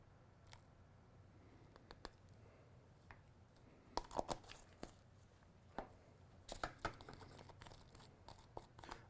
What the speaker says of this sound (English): I'm just stirring these two up because sometimes it helps to disperse the zinc oxide if it's kind of mixed in with the other powders.